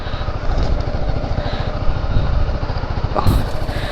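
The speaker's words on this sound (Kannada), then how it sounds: "ಸೊ ಕೋಲ್ಡ್ ಸ್ಟಾರ್ಟ್ ಆಯಿತು ಗಾಡಿದು" A BMW G310GS single-cylinder motorcycle idles after a cold start in the rain, its engine a close, steady, rapid chugging that holds throughout with no talk.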